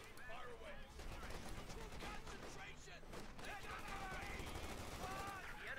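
MG-34 machine gun fire in Company of Heroes 2, a World War II strategy game, crackling in dense overlapping bursts amid other battle noise, steady and loud throughout.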